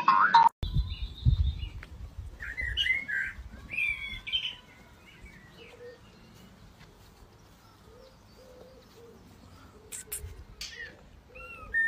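Small birds chirp and tweet in short, repeated calls at moderate distance, following a few loud thumps and rustles at the start, with quieter background noise after.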